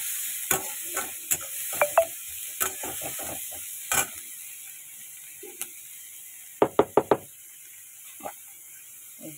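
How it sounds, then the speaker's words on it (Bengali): Onions frying with salt and turmeric in a home kitchen pan, with quiet background sizzle and scattered sharp scrapes and clicks of a spatula stirring, including a quick burst of several strokes near the end. "এই যে পেঁয়াজটা ভেজে নিচ্ছি নুন হলুদ দিয়ে ভালো করে"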